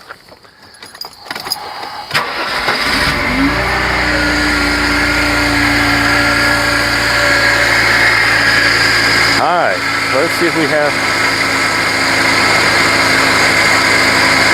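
A Mercedes 190E cranks and starts, then settles into a steady idle that runs on loud and close, with light rain outside and a person speaking briefly over the engine.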